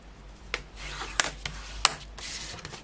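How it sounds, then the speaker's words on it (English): Card stock scored at the six inch mark, a soft scraping rub with three or four small sharp clicks from the scoring tool, close and quiet over a low hum. "what I'm going to do is score that as usual at my six inch mark"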